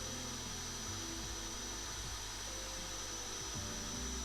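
A handheld sanding machine with a replaced bit runs steadily, a continuous loud whirring hum with a shifting motor pitch, and no talking.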